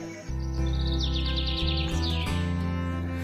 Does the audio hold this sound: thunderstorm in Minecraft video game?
no